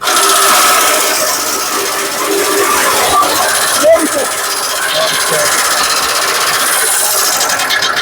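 A chaff cutter machine running steadily while cutting sugarcane into half-inch pieces, its motor and blades making a continuous loud mechanical drone throughout, with voices talking faintly underneath.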